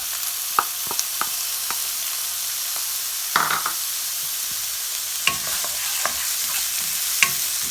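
Finely chopped onions and green capsicum frying in a pan for cabbage manchurian, a steady close sizzle punctuated by scattered spatula scrapes and taps.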